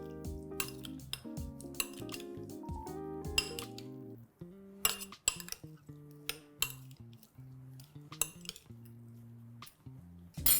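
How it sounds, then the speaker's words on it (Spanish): Spoon clinking and scraping against a bowl while mixing the soaking fruit mixture for a Welsh cake, irregular bright taps and chinks over a gentle background tone, no talking. "Y vamos a mezclar"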